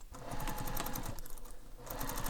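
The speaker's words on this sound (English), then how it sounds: "So sew these together with the seam allowance given in the pattern." A sewing machine runs in quick bursts, stitching bag pattern pieces together at the seam allowance. The rapid mechanical whirr is close and fairly quiet, with a brief pause midway.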